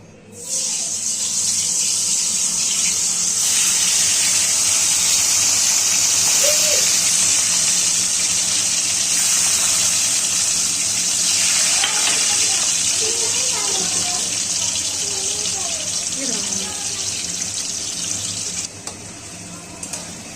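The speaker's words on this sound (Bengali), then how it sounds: "এবার আমরা এক এক করে পনিরগুলো ছেড়ে দেবো।" Paneer pieces frying one by one in hot oil in a kadai for a vegetarian cauliflower paneer dalna, a steady loud hiss and sizzle running throughout with faint voices in the background.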